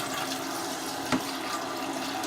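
Cold tap water pours into a cooking pot over cut potatoes, a soft steady splashing stream heard faintly and alone, with a small clink midway.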